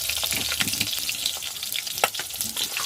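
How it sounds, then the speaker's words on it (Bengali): Tender young brinjal pieces fry in hot oil in a pan, a continuous close crackling sizzle with occasional sharper pops and stirring clicks, no voices. "ভাত হয়ে গিয়ে এবারে বেগুনটা ভাজছি।"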